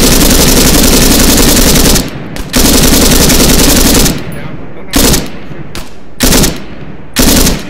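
Bursts of heavy automatic fire from a bipod-mounted gun in ARMA 3, loud and close, one long continuous stream followed by several short separated bursts.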